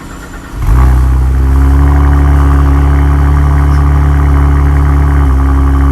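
Saab 9-3 Turbo X engine with rear muffler delete, starting abruptly after a brief moment, then a loud, steady, deep idle drone with a strong low hum, close by and without talk.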